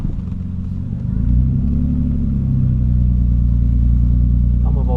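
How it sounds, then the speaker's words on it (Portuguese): An Audi 80 wagon with a dual-tip exhaust idles with a deep, loud, steady rumble up close, its note rising and thickening slightly as the engine settles into a sustained roar. "Tem só uma ponteira dupla. Mas é um ronco maravilhoso."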